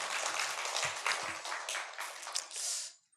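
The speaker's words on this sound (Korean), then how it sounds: "박수." A church congregation claps in a brief burst, with dense, fairly close hand claps that thin out and fade after about three seconds.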